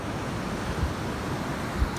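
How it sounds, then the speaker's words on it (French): Ocean waves wash continuously onto a beach in a broad, steady roar, with gusts of wind buffeting the microphone and a couple of low thumps, and no voices. "regarde, il y a des vagues"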